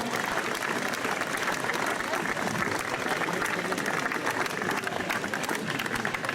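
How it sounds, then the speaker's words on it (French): An audience applauds a competitor at the Force Basque 2022 cart-lifting event, a steady dense wash of clapping that carries on without a break, moderately distant, with voices faintly mixed in. "Allez, on peut l'applaudir"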